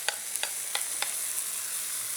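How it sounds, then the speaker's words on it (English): Four scraping stirs of a spoon through passata and chopped tomatoes mixed into cooking vegetables such as sweet potato, leek and carrot, set over a steady low sizzle in the pan. "Give that a little stir."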